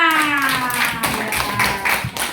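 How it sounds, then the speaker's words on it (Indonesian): Students clapping for a classmate in a classroom, a few rhythmic hand claps in loose bursts, close and fairly loud, with a voice briefly present at the start. "tepuk tangan untuk Vanessa"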